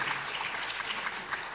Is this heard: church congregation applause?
yes